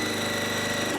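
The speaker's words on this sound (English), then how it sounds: "So what I'm going to do now is sew onto the other side." Sewing machine running continuously while stitching fabric for a strawberry patch quilt block, a steady loud mechanical hum with rapid needle rhythm, close and alone throughout.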